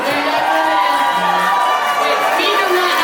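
Loud, dense audience cheering and shouting, whoops and screams sustained throughout with no let-up.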